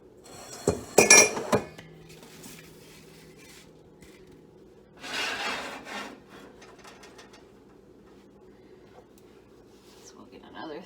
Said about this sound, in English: we're gonna start stacking our cinnamon buns into the pan